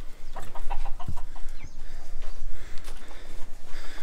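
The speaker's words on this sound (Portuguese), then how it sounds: "Já entrou as galinhas ali" Chickens cluck around a yard at home in Cape Verde, with short clucks and calls scattered across the clip over steady background noise and other farm sounds.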